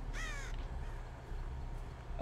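Crows cawing in the Dead by Daylight survival horror game, a short burst of harsh caws up front over a steady low ambient rumble, with a faint sound near the end.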